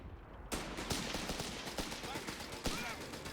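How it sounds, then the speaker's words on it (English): Rapid, dense explosions and gunfire sound from an artillery barrage in the video game Company of Heroes 3, arriving in quick bursts with a commentator talking over them. "Forward Observer Artillery Barrage."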